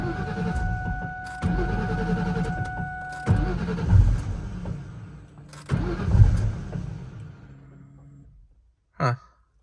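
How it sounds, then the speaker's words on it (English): A Kenne Bell Cobra with a bad fuel filter struggles to start: repeated loud cranking bursts chug and sputter without catching, then fade into a brief quiet tail with one short sharp noise at the end. "So you can go ahead and hear how mine has been always having trouble starting."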